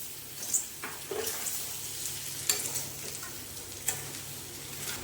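Green peas stir-fried with rice in a pan for pea pulao give a steady sizzle broken by occasional scraping stirs and clinks, with no voices.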